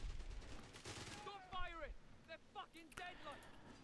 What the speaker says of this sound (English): Putting down a little bit of machine gun fire.